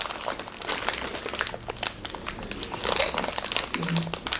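Crinkly plastic nut and crisp packets rustling and crackling throughout, fairly close, with voices talking faintly underneath.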